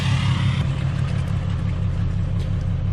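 A 2016 Ram with a 6.7 Cummins diesel and a 5-inch straight pipe exhaust held at raised idle around 1200 RPM, giving a steady, loud, deep rumbling drone with a faint clatter, close up and without talk.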